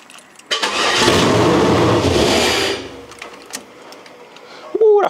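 A car engine fitted with new heads and cam fires up for the first time with no exhaust attached, a loud raw roar that bursts in, runs about two seconds, then cuts off, leaving faint clatter and a brief voice at the end.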